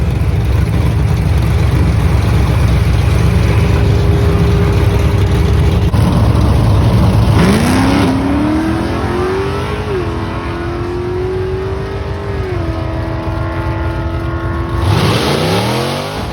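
A 1978 Oldsmobile Delta 88 running nitrous and a stock 10-bolt rear end makes a drag strip pass, its engine loud throughout, revving up in long rising sweeps with a gear change midway and a fresh climb near the end.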